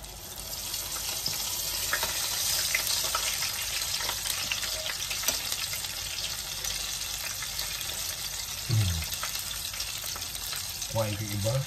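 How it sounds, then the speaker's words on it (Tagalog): Shrimp tempura dipped in flour and butter batter frying in hot oil, a steady dense sizzle throughout with a few brief clinks near the end. "Then, i-fry na po natin siya."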